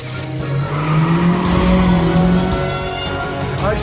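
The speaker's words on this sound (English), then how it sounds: "We are actually having an intense car chase scene between a car and a remote control car" Engine roar and squealing tires in a car chase between a real car and a remote control car in the film Home Alone 3, a steady loud drone with a rising whine and a tire screech at the end.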